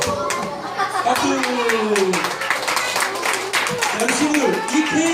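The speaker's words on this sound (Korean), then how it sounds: "박수." Children clap their hands in rapid, uneven bursts during a Sunday school Christmas celebration at church, with talking and a voice over the clapping throughout.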